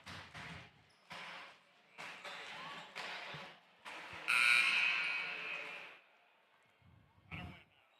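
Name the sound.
buzzer sounding at high school volleyball match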